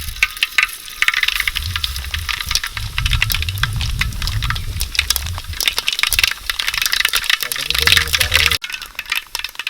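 Mustard seeds sputter and pop in hot oil in a pan while a Kerala-style beef fry is being made, giving dense crackling bursts throughout with a voice talking over them.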